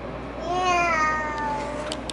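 A cat gives a single drawn-out meow, rising and then falling, close by against a quiet indoor background.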